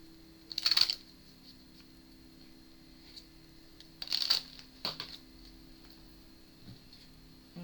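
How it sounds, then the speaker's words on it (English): A deck of cards is shuffled in short bursts, two brisk riffling flurries separated by quiet pauses with a few faint ticks, close and without speech. "so I'm pretty much done shuffling"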